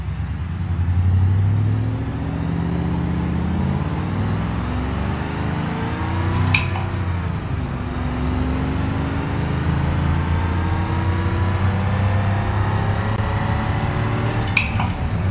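A fast ute-style car built on a D-Series body drives in BeamNG.drive, its engine a close, humming drone whose pitch rises and falls with the revs, with a few faint clicks and knocks along the way.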